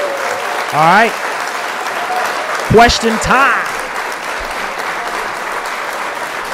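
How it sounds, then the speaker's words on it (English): A short burst of canned applause plays on a gaming livestream, moderately loud and brief, while the host talks over it in a lively voice before and after. "Give yourselves a round of applause."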